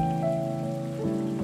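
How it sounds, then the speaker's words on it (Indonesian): Steady rain patters in the Coral Island farming game, a soft continuous hiss running beneath sustained tonal game music, with no voices. "Hari ini hujan."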